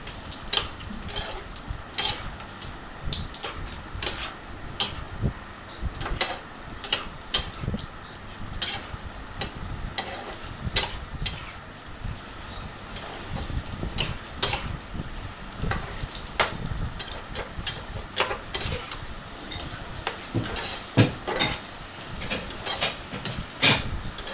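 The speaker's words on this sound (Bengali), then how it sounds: "মশলাটা কষানো হচ্ছে এবার" Masala spices sautéed in a pan, with constant spatula scraping and clicking strokes over a low frying sizzle, close and steady throughout.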